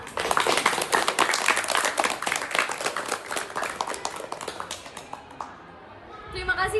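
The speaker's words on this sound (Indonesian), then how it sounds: "Beri tepuk tangan untuk kita semua." Audience applause closes a school talk show, a dense burst of clapping that fades over several seconds as a voice begins speaking.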